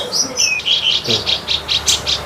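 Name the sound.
kapas tembak songbird singing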